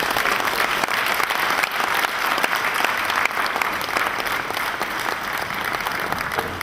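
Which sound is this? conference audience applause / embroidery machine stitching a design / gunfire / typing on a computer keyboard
conference audience applause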